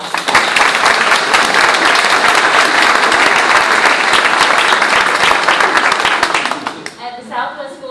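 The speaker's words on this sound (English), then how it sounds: "so let's give them all a round of applause" A crowd applauds steadily with dense, continuous clapping for about seven seconds, fading out at the end as a voice begins speaking.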